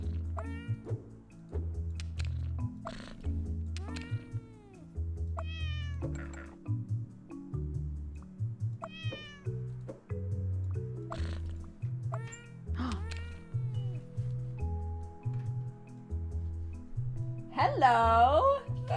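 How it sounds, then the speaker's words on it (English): A cat meows and caterwauls again and again in loud, drawn-out bursts over a song playing in the background, ending in a final agitated yowl. "Usually a very chill cat, only sometimes a certain song starts and he gets crazy."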